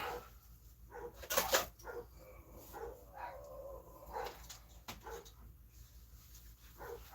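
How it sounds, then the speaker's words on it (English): Dogs bark in an agitated, irregular burst indoors, with sharp barks and yips at moderate distance, fading to whimpers and quieter woofs, and no one talking. "my dogs just started going crazy"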